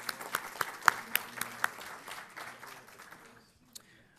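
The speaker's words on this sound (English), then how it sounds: "All right, how about a big round of applause?" Audience applause at a township awards ceremony: a smattering of sharp, distinct claps that thin out and fade to near silence, with one last clap near the end.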